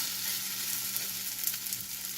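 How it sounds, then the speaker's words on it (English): Steady, close sizzling of arepas frying in a hot pan, a continuous crackling hiss with small pops, no voices. "Hear that sizzle."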